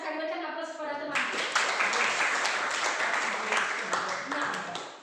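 A classroom of students gives a classmate a round of applause, a dense burst of many hands clapping that starts after a second and carries on steadily to the end, with a voice speaking briefly at the start.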